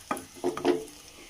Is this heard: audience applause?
no